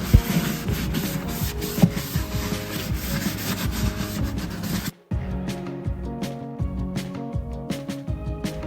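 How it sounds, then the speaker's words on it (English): Shop towel rubbing and wiping grime off BMW e60 M5 car parts, a steady close scrubbing with a brief pause midway, then lighter rubbing continues. "Here we're going to use a shop towel to clean it up."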